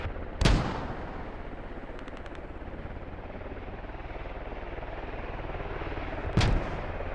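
Gunfire in a multiplayer military shooter match, with two sharp, loud shots set against a constant low rumble of distant battle and vehicle drone.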